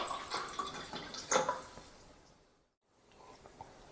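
Water from a tank-fed tap running and splashing with some dripping, moderately close, fading out to near silence before a faint trickle resumes, with no talking.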